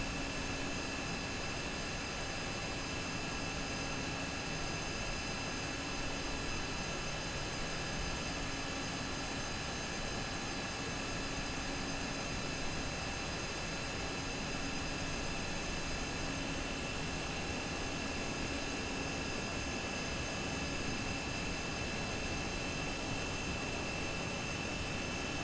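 An aircraft engine in Microsoft Flight Simulator runs as a steady, unbroken droning hiss with a faint whine, holding at an even level for the whole stretch and heard alone.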